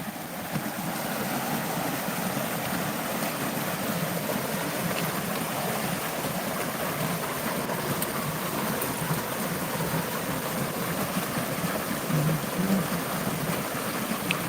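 Flowing water at the icy ponds of Makaha, a steady, unbroken rushing wash heard from nearby at moderate level, with no talk.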